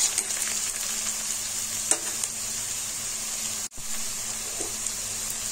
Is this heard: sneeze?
no